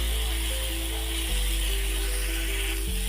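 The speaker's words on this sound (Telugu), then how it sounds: "టమాటా ఉల్లిగడ్డలు పచ్చిమిర్చి ఇవి మంచిగా గోలాలి" Tomatoes, onions and green chilies fry in oil for a masala okra curry, giving a steady, close sizzle with a constant low hum beneath.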